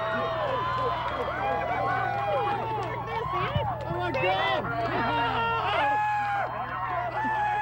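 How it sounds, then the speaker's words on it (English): A large outdoor crowd at the Kennedy Space Center cheers and whoops continuously at the STS-135 space shuttle launch, many voices overlapping with whistles and shouts, loud and sustained throughout. "So listen to the crowd reaction."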